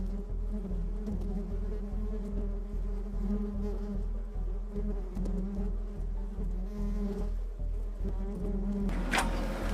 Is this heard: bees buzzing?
yes